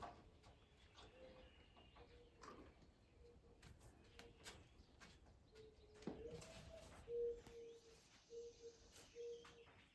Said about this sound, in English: You guys hear the owl?